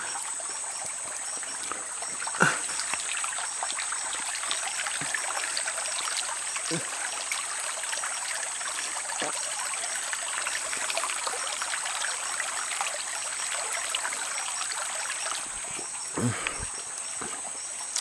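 Water streams and trickles steadily in the jungle, a constant splashing flow with a few louder drips and splashes, heard alone without talk.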